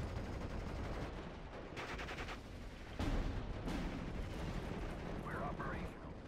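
Machine-gun fire rattles through a Steel Division: Normandy 44 battle on D-Day. The dense, continuous crackle of shots blends with a wash of battlefield noise at a steady, moderate loudness.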